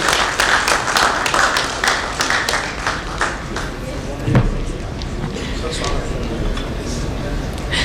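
A conference audience breaks into steady applause as the chief guest walks onto the stage, a dense, continuous patter of many hands that softens midway and carries on with background voices mixed in.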